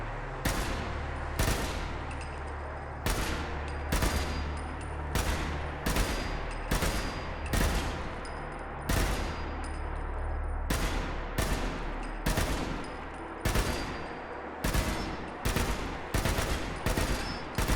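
A weapon built with the Gunsmith Extended mod fires in Fallout 4, loud separate bursts repeating at a steady pace, each a sharp crack with a short tail, about fifteen in sequence and some clustered in tight pairs.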